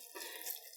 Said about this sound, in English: sprinkle water on the soil, which makes it moist without being puddles